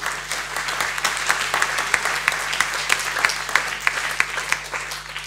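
An audience at a literary conference in France claps steadily, a dense, sustained round of applause with sharp individual claps standing out.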